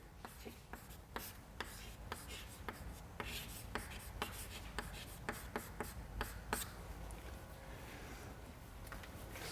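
Chalk or pen writing during a statistics lecture on maximum likelihood estimation, a rapid series of faint tapping and scratching strokes over steady background hiss, with no talk.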